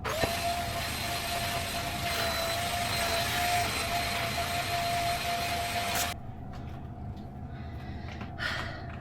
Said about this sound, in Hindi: अभी हम बेड को वैक्यूम करेंगे